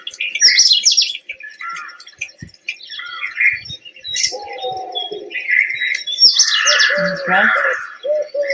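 A Eurasian collared dove coos in an Indian wildlife setting, its soft repeated calls mixed with chirps and squawks of other birds, with brief talk nearby.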